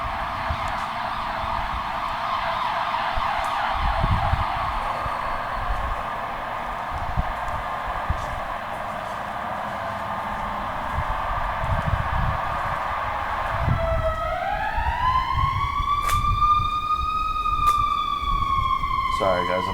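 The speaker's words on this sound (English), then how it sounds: "I'm trying to let the ambulance or the siren pass by" An ambulance siren wails steadily near a town square close to a hospital, loud and sustained, then rises into a sweeping tone as the vehicle passes close by.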